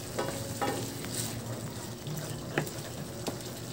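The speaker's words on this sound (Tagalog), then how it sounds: "Tuloy lang sa paghalo." Chicken liver and gizzards fry in a pan while being stirred: a steady close sizzle with occasional scraping stir strokes, and no talking.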